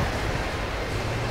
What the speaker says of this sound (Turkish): Şimdi şuradan bir dere akıyor.